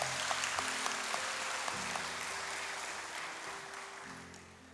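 Congregation applause welcoming members at a large church service, a soft, distant patter of clapping under a sustained musical drone, fading slightly toward the end.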